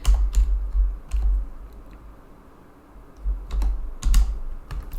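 Computer keyboard typing, clicky keystrokes in short irregular bursts separated by a pause, close and fairly loud over a low background hum.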